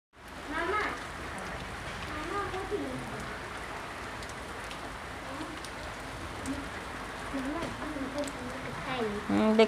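Steady rain falls around a rooftop terrace, a continuous soft hiss beneath people chatting nearby.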